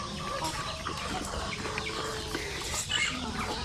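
Chickens cluck softly and intermittently near their coop, a few short clucks scattered over a low outdoor background with faint voices.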